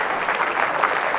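Crowd applause at the 2019 World Indoor Bowls Championships after a close bowls shot, a dense, steady wash of many hands clapping in an indoor arena without any pause.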